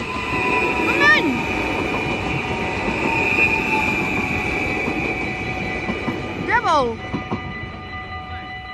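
A train passes through Susteren station, rolling steadily with a sustained metallic hum, high wheel or brake squeals and a couple of sharp tonal sweeps, while a voice speaks briefly nearby.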